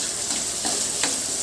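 Chopped onions go into hot oil after garlic has browned, giving a loud, continuous sizzle with a few faint stirring scrapes, close up and without talk.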